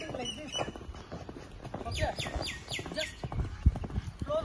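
Hooves of a ridden horse clip-clop in an uneven rhythm of close, distinct thuds, with a rider talking over them and birds faintly in the background.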